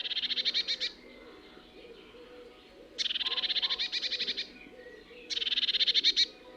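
A Eurasian blue tit repeats rapid, high chattering trills in three separate bursts, clear and close, with quiet pauses between them.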